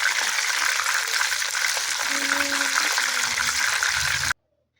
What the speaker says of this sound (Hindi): देखें मैं इसको दबा रही हूँ और पानी की आवाज़ सुने आप किस तरह आवाज़ आ रही है